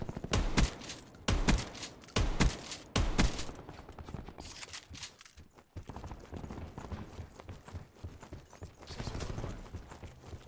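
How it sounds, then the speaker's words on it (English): Gunfire from the video game Call of Duty Black Ops 4: several loud sharp bursts early on, followed by busier, quieter rattling game noise. "Why are you shooting me?"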